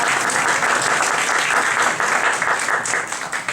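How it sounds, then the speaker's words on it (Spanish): Audience applauding at a lecture on the Silk Road, a dense burst of clapping from a room full of people that carries on steadily before tapering off. "Un aplauso para ella, por favor."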